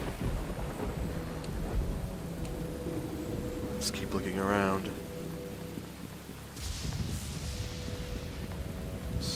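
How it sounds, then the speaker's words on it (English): Steady rain with a rumble of thunder on a rooftop in the video game Neverwinter Nights, a constant wash under someone speaking, with a brief tonal effect midway. "Quite the rainy day out."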